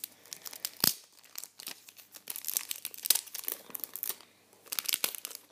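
Sharp crinkling and tearing of tape and plastic packaging, in irregular bursts with brief pauses, close up.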